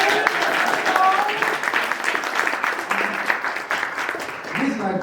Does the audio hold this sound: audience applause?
yes